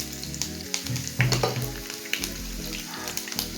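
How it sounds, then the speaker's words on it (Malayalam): Chopped onions frying in a pan, a close, continuous crackling sizzle with irregular pops and the scrape of stirring throughout. "നമുക്ക് അരിഞ്ഞ് വെച്ചിരിക്കുന്ന ഉള്ളി ഇടാം."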